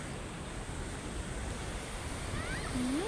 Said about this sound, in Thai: น้ำตกถ้ำกล้อง